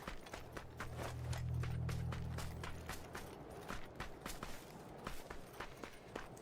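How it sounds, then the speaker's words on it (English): Footsteps of a player character during a competitive video game match, a steady run of sharp, evenly spaced steps at moderate distance, with a low hum in the background and no talk. "NCLS surely gonna hear Sam Crow's footsteps"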